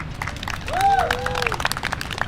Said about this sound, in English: give yourselves a round of applause for making it to the end